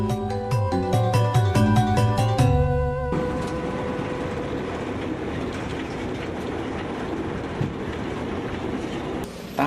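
A passenger train runs through the mountains of western Parahyangan, with a loud, continuous rumble of wheels on rails and rhythmic clatter after a brief burst of tonal music at the start.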